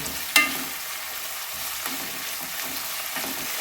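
Sliced onions fry for chicken curry and are stirred in a pan, giving a steady close sizzle with soft scraping strokes and one sharp knock near the start, with no talking.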